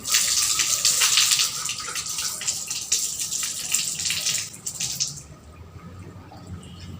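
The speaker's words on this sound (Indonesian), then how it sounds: "Agar memastikan tangan kita itu suci dan keran ini juga suci, maka kita siram terlebih dahulu." Water runs from a tap for rinsing before ablution, a bright steady splashing flow that cuts off after about five seconds and leaves a quiet, faint dripping tail.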